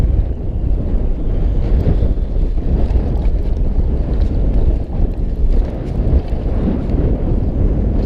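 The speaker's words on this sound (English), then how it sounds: "The wind is a howling." A howling gale buffets a fishing boat on the water while catfishing, heavy microphone wind noise rumbling and gusting loudly and continuously, with no talk.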